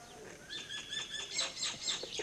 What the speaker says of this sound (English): If I hear the sound of the birds, how do I hear the sound of the birds?